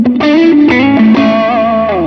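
Distorted electric guitar played on the bridge pickup, a Telecaster-style guitar through a Vox AC30 amp plugin, tight saturated notes with a few quick changes and a held, bending final note, loud and close.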